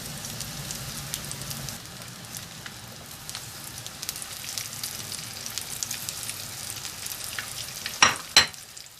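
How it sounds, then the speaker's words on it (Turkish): Hot oil sizzles and crackles steadily as onion rings fry, with a couple of sharp clinks near the end. "soğan halkalarını şimdi kızgın yağ atıp kızartacağız"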